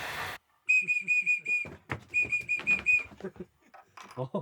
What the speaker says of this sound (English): I'm gonna print this one, a loud whistle